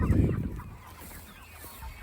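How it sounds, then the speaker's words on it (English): Native roosters on a pasture farm make a short, close burst of loud honking fowl calls at the start, then fade to quieter scratchy rustling, with no one speaking. "And this is our native chickens. I mean roosters. All of them are roosters."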